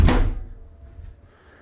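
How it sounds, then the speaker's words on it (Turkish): A door in a farm butcher's space is pushed shut with one loud thud at the start, then a short fading rumble and quiet room noise. "Şu kapıyı örteyim."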